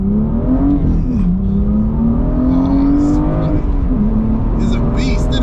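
A manual BMW M2 accelerates hard up through the gears, its engine note climbing steadily and dipping briefly at each shift, loud and continuous from inside the car with people talking over it.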